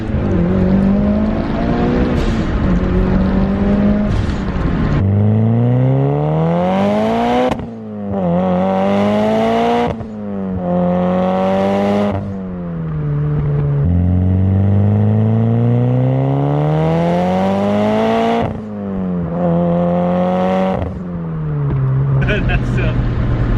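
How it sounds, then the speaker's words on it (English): A loud Mitsubishi Lancer Evolution VIII engine, about 400 wheel horsepower, revs repeatedly in first gear, rising and falling in sharp pitch sweeps with a turbo whine, close and dominant throughout. "Do a nice little first gear rev."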